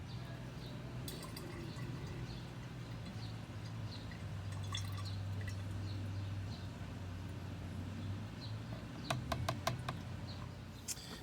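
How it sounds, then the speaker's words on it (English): Sedge Ender herbicide being mixed into a gallon of water makes quiet, continuous liquid sloshing and pouring, close by, with a few light clinks and knocks toward the end. "we'll mix it in here with a gallon of water"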